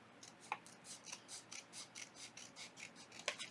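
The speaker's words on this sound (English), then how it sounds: "We're going to cut it right here where it's folded, and I'm just going to cut it straight across." Small scissors snip straight across the fold of a paper envelope, a run of quick, evenly spaced crisp cuts close up, with no talking.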